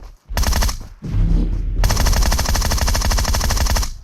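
Sustained automatic gunfire from the PUBG Mobile game rattles in rapid, loud bursts, briefly broken by short gaps before a long continuous stream of shots.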